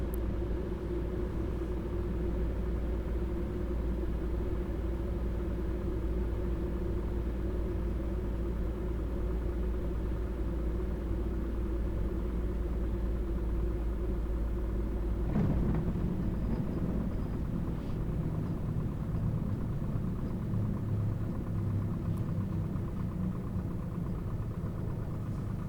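A Cozy MKIV light airplane taxis after landing at Smithfield airport. Its engine makes a steady, loud, low rumble that runs unbroken throughout, with a brief surge in the middle.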